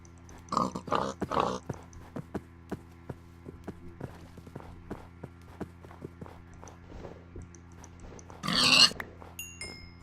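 Pigs in the Minecraft video game grunt in a few short bursts near the start and again near the end, between steady game footsteps and light clip-clop ticks, with no talking.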